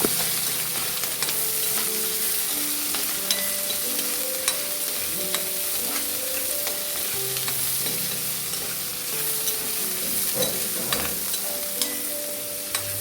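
Sliced green chillies and shallots sauté in a pan for a prawn theeyal with roasted coconut, making a steady, close sizzle throughout with faint occasional stirring clicks and no talk.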